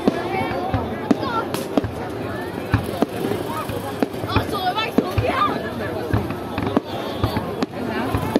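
Repeated sharp bangs and crackles of Lunar New Year fireworks going off at a distance, irregularly spaced, with crowd chatter and voices underneath.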